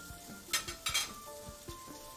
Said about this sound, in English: So we're going to brown it on all sides, and that's going to shrink the outside of it a little bit